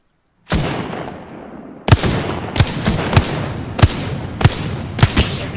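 Gunfire from the Wingman revolver in the video game Apex Legends rings out as a loud, close series of single sharp shots, one opening blast followed by six evenly spaced reports about half a second apart, with reverberating tails between them.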